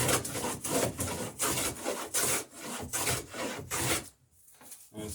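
A hand plane shaves pine boat planking for a lapstrake hull in a series of steady, rasping strokes, each a loud swish followed by a brief pause, with a quieter gap near the end.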